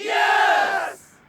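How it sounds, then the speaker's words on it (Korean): A crowd lets out a loud, brief triumphant shout in a David and Goliath Bible story narration, a single roaring burst of about one second that quickly fades away. "하나님의 백성은 그들이 달아나는 것을 보고 환호성을 질렀지요."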